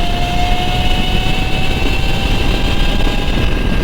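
Wind roaring past a rider on an electric Honda bobber motorcycle at speed, a loud steady rushing blast with a faint high motor whine threaded through, no voices.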